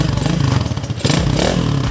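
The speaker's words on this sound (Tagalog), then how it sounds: "malakas, malakas yung makina niya" A Zuruki Raider 250cc motorcycle engine rumbles loudly up close, with rough revving surges and mechanical clatter throughout.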